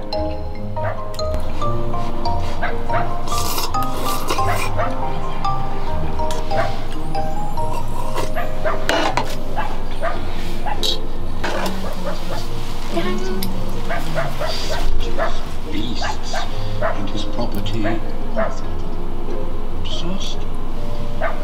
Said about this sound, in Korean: 진짜 강아지 끝까지 짖잖아요